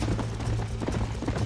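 Horse hooves gallop in Red Dead Redemption, giving a rapid, continuous patter of close clip-clops in a brief, dense burst with no talk.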